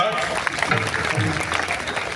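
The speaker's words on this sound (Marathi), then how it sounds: "जोरदार कडवून टाळ्या झाल्या" Audience applause at a public Harikirtan held at Shivneri fort, a steady dense clapping that fills the whole moment without a break, mixed with faint crowd murmur underneath.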